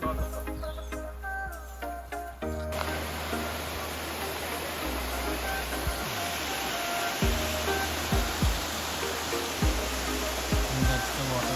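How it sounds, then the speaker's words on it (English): A Texas waterfall roars as a broad, steady rush of falling water, loud and continuous at close range, with some handling noise and faint bird calls early on. "And that's the waterfall."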